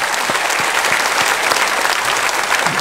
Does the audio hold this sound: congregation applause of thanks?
yes